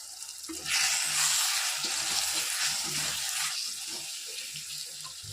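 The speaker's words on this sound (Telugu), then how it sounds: "ఇప్పుడు బాగా కొంచెం మసాలాస్ అన్నీ బాగా వేగిపోవాలి" Egg curry masala of coriander, cumin, turmeric, salt and chili powder sizzles in a pan, a soft steady frying hiss broken by repeated stirring scrapes.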